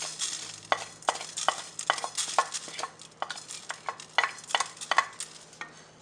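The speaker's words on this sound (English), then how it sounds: "Now I will take a pan and dry roast these masala, which is 2 cinnamon sticks, 1 tablespoon of coriander seed" Cinnamon sticks and coriander seed dry roasting in a pan, heard as a run of sharp scraping and rattling strokes from stirring, close and irregular, over a low steady hum with no speech.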